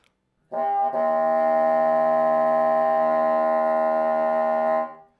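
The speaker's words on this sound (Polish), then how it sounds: "momencie ten wielodźwięk brzmi mniej więcej tak." One sustained multiphonic chord from a wind instrument, several pitches sounding together in a rich, buzzy tone, held steadily for about four seconds.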